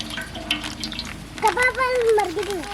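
Sunflower oil poured into a pan to cook a poor man's kebab: a steady liquid pour over constant kitchen noise, with a voice talking over it.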